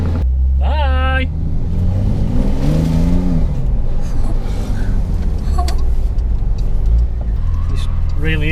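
A Porsche 911 of the 992 generation accelerates in sport plus mode, its engine rumbling and rising in pitch from inside the cabin while people talk over the roar.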